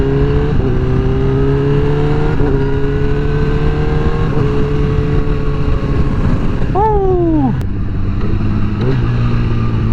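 A 2019 Honda CBR1000RR sportbike accelerates hard, its engine note climbing steadily through several quick-shifted gears, each shift a brief clipped break before the roar rises again, loud and close throughout.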